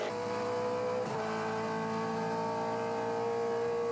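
A BNT V8 race car on its final lap at Ruapuna circuit, a sustained loud engine drone holding a steady pitch with a brief dip in the middle, heard close and continuous.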